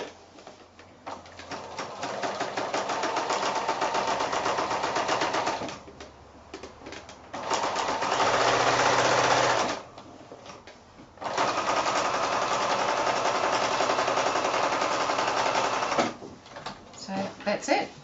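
Close sewing machine stitching quilt-as-you-go blocks together in several fast, steady runs, separated by short pauses and a few soft handling clicks.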